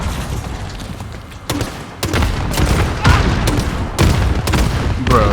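Repeated booming blasts from a grenade launcher in Call of Duty Warzone, several loud explosions landing in close succession with rumbling gunfire between them, no voices.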